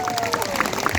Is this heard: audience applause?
yes